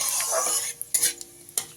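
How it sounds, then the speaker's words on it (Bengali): Hot oil hissing and crackling softly as panch phoron spices fry, with a few light stirring scrapes and small pops. "ফোড়নটাকে হালকা ভাজা ভাজা করে নিতে হবে"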